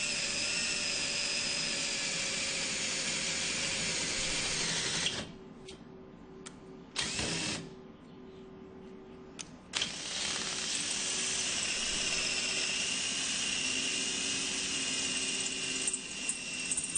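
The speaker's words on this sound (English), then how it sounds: "Now we're drilling a 3/8 inch hole." A power drill whines steadily while drilling a 3/8 inch hole for a trailer hitch, pausing briefly a couple of times before resuming, close and loud with no talking.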